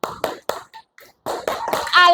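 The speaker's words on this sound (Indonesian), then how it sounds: "kita tepuk Al-Quran dulu." Children doing the 'tepuk Al-Quran' clapping rhythm, a quick pattern of close hand claps and taps mixed with chanted young voices.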